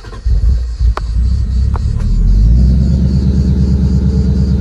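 A 2020 Ford Mustang Bullitt edition V8 cranks briefly with a few sharp clicks, then catches and settles into a loud, steady, deep rumbling idle close by.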